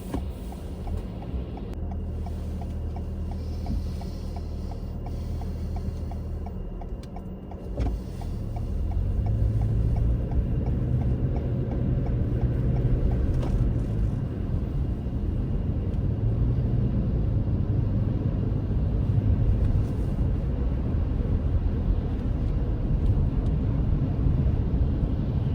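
A car driving into Orangeville during a Canadian snow squall gives a steady low road rumble that thickens into louder, continuous tire and wind noise partway through, with no one speaking.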